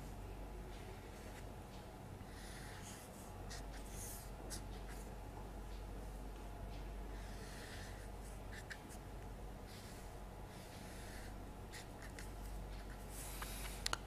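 Soft, continuous scratching of chalk or marker across a lecture-hall board while a frame diagram is drawn, faint and intermittent with small taps, over a low steady room hum and no talk.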